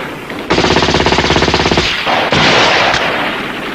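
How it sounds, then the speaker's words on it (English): Mixed force of tanks and infantry firing in a 1983 Soviet encounter battle: a loud, close, rapid machine-gun burst of evenly spaced shots, followed by heavy sustained roaring blasts that fade slowly. "they've been fired on by a mixed force of tanks and"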